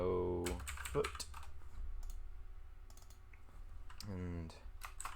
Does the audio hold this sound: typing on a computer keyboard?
yes